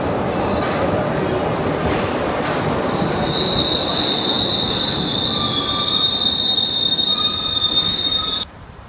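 A Glasgow Subway train pulls into the station with a loud, steady rumble, a high metallic wheel squeal rising from the middle and holding before it cuts off abruptly near the end.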